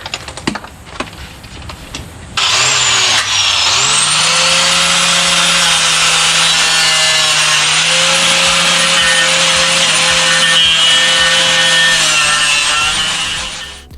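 An abrasive wire wheel on a power tool grinds steadily against a car chassis, stripping it back for repainting; after a few bumps and clicks the loud, continuous whirring scrape starts and holds close up with no talking.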